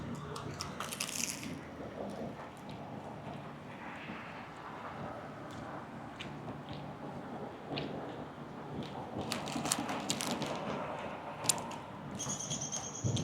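Bites into a crunchy bagel, crisp crunching and chewing close to the mic over a steady background hum, with a few sharper crackles toward the end.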